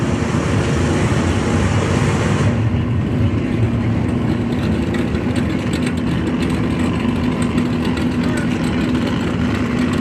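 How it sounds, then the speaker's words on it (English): Pro Modified drag cars warm up at Toronto Motorsports Park during a Canada Heads Up Shootout Series event, making a loud, continuous, rough engine rumble mixed with broad noise throughout. "Pro Modifieds over there warming up. You can hear them."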